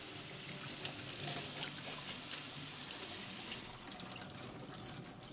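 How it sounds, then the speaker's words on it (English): Water runs steadily from a tap, splashing and trickling over kale being rinsed, continuous and fairly close. "Next, we're gonna wash some kale."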